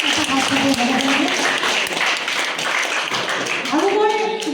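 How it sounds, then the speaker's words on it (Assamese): A school audience claps for a teacher, a dense continuous clatter of many hands that fills the whole stretch evenly, with a voice speaking faintly underneath. "সেইকাৰণে ছাৰৰ কাৰণে এটা হাত চাপৰি হ'ব লাগে।"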